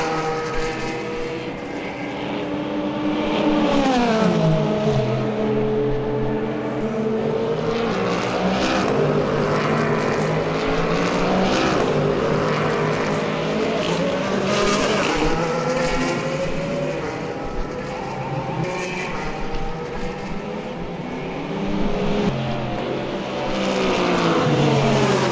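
Race car engines in Le Mans Ultimate at the 24 Hours of Le Mans roar steadily and loudly, with several cars sweeping past in rising and falling pitch over a constant engine drone.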